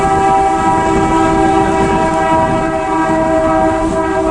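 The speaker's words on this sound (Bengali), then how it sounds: "ওই যে ট্রেন যাচ্ছে" A train runs along a rail line right beside a badly damaged road, loud and close, its sustained horn tones riding over a steady rumble and clatter of wheels for the whole stretch.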